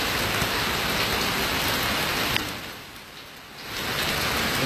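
Rain pouring steadily in Thailand, a loud, dense hiss of falling drops that eases briefly partway through and then returns at full strength.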